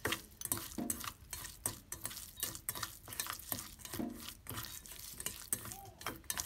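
Minced pork mixed with a little water and light soy sauce is kneaded by hand in a bowl, giving a steady rhythm of close, wet squelching pushes with no talking.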